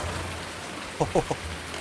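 Steady rain hiss falls in Farming Simulator 19 with tractors stuck in mud, a soft continuous wash with a low engine hum beneath and a few brief thuds near the middle.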